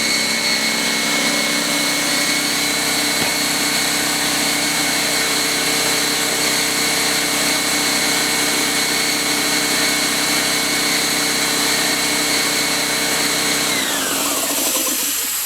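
A Fortress 27-gallon, 200 PSI, 5.1 SCFM air compressor motor drones loudly and steadily from about a foot away, then winds down near the end.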